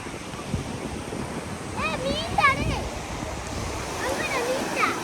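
Sea waves wash ashore at Karkovalam beach with a rushing, wind-buffeted roar while voices talk and shout faintly in the background.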